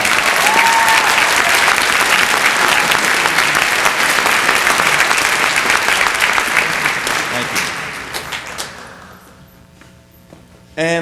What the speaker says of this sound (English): One more round of applause for our third year orchestra letterman